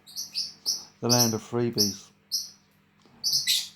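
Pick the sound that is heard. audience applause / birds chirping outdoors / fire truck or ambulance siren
birds chirping outdoors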